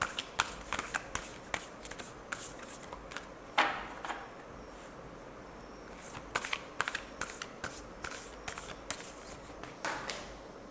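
Tarot cards shuffled and drawn by hand, a steady run of close, crisp riffling snaps and slaps with brief pauses between bursts, no voices over it.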